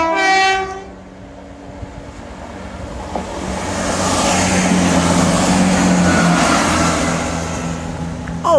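A train horn toots in a short series of blasts at the start, then a train rumbles and roars past nearby on the Dawlish seawall, building in loudness.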